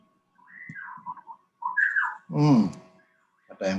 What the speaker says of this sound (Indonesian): Burung murai itu kelihatannya ya